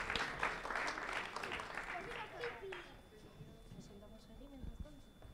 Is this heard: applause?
yes